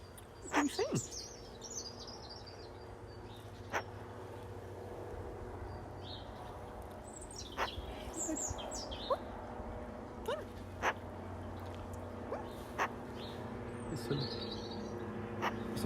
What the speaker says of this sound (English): Some bonus blackbirds and beagles in the background.